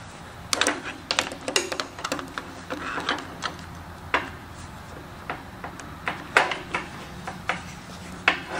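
Tack welding on a DIY steel roll-out wheel, heard as a series of sharp, irregular clicks and crackling bursts spaced across several seconds, close and fairly loud.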